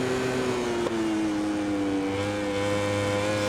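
A race motorcycle engine in the MotoGP 20 video game holds a high, steady rev down the straight, its whining tone drifting slowly in pitch with a brief blip near the start.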